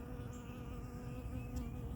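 Steady insect buzzing, a bee hovering close by, continuous and even with no talking.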